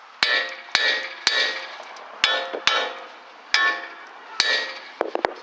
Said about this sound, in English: Now I'll take my hammer and hit this a couple times.